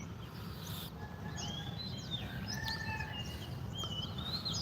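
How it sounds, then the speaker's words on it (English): Several small birds chirp and whistle in short, scattered calls at a Thailand bar and grill on a hot Sunday morning, moderately near over a steady low background hum, with no talk. "you can see we got birds coming in now"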